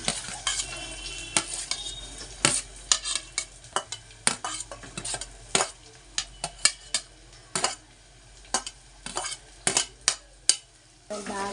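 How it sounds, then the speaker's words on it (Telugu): Onions fry in hot oil for chicken wings curry under a low sizzle, punctuated by frequent loud metallic clinks and scrapes of a ladle against the pan at an uneven rhythm, close-up with no voices. "ఆయిల్ వేడయింది, ఉల్లిపాయలు వేసుకుందాం."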